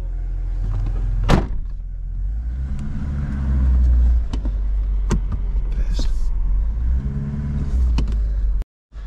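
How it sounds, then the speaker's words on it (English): An engine, apparently from an abandoned Ford RS Turbo or Aston Martin Volante, turns over and idles with a steady low rumble, then a few sharp clicks and clunks follow as the gears are tried and reverse is selected. "Moment of truth. Ignition. Let's try the gears. Reverse."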